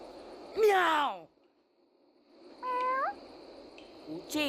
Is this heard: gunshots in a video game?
no